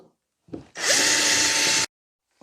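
A power drill bores small holes for OO gauge model railway fence posts, one steady whirring burst of about a second, close and loud, with brief handling noise just before.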